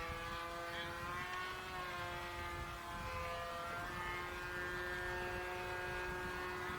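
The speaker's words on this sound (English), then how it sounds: "Good flying airplane." A Boogieman 60 RC model airplane drones in flight with a steady buzzing engine whine that shifts slightly in pitch as it passes, faint and distant, with no talk.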